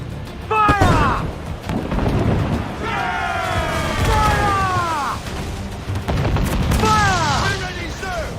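Ship cannons boom in Assassin's Creed IV Black Flag during a naval battle, with loud heavy blasts under crew shouting and a sung shanty-like call.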